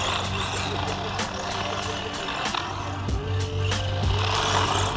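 Cheap brushed 9130-clone RC truck with LED lights running on a 3S LiPo over damp morning grass, its motor whining steadily with sharp clicks and thumps as it bounces, a voice talking now and then.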